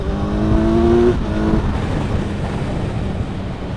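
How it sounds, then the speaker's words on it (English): A Kawasaki Z900 inline-four motorcycle engine hums steadily while riding, with a smooth rising tone early on that settles into a constant drone mixed with wind rush. "I've forgotten how nice it is to ride an inline 4"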